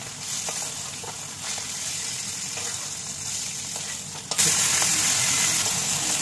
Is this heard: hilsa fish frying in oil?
yes